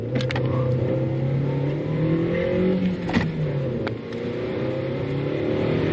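A car drives during a brake test, its engine humming steadily close by and rising and falling in pitch, with a few sharp knocks and clicks from inside the cabin.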